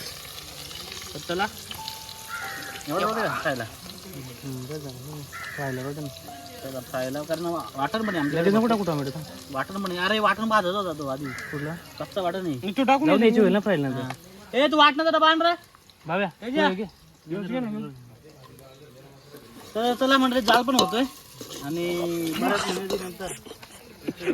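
Garlic cloves, chili and onion sizzle and crackle in hot oil at an outdoor farm chicken party, with stirring sounds in the pan while people talk loudly over the frying throughout.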